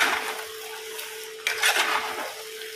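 A spoon scrapes and stirs chicken sukka with grated coconut in a pan over low flame, giving steady rubbing and clinking sounds that grow busier partway through, with no talking.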